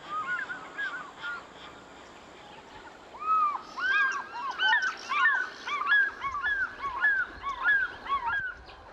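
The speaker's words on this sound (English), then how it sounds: "The lonely cry of the fish eagle is one of Africa's most evocative sounds." An African fish eagle calls in Africa: a run of ringing, yelping cries that starts faint and grows louder from the third second, repeating in quick rhythmic bursts with no voices.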